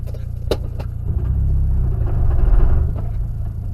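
A car cruises along the road with a steady low engine rumble and road noise that swells slightly mid-way, close and continuous, with no talking.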